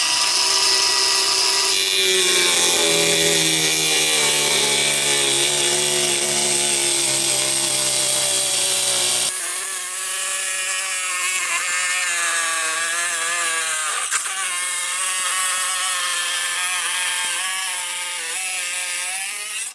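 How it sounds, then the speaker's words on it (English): A Bosch Easy Cut&Grind with a carbide blade cuts 1/4 inch plywood, a loud continuous high-pitched motor whine with shifting tones throughout, close up and without talk. "I'm going to cut this 1/4 inch plywood with the carbide blade"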